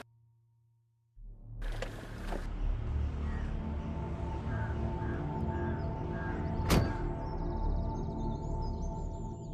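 A car rumbles steadily on the road and comes to a halt, with a single solid door thunk partway through and faint higher rattles after.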